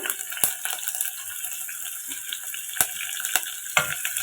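Green chillies and finely chopped garlic fry in hot oil with cumin seeds, a steady close sizzle broken by a few sharp clicks and crackles.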